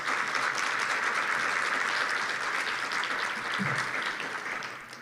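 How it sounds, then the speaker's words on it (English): Audience applause fills a conference hall at a national suicide loss team gathering, steady dense clapping from many hands that holds for several seconds before starting to taper off. "please give them a round of applause"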